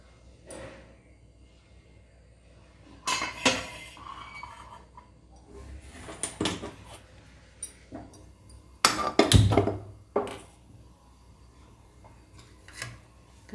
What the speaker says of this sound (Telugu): కడాయి పెట్టి అటుకులు కొద్దిగా వేసుకుందాము